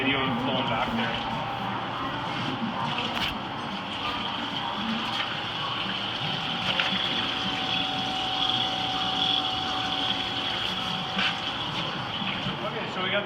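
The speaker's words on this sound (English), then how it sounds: "so we're just gonna put some coolant in here, and it's gonna get a video of it flowing back there." Coolant flowing on a TOS radial arm drill, a steady wash of pumped liquid running continuously with machine hum underneath, and people talking over it.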